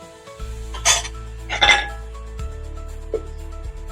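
A metal lid set back onto a cooking pot on the stove, two close metallic clinks followed by a softer tap over a low, steady background hum.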